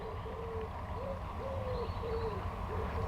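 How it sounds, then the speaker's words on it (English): Wood pigeons coo in a repeated, soft rhythm beside a fishing pond, the calls moderately distant over a steady low outdoor background. "All I can hear are the ducks and the wood pigeons"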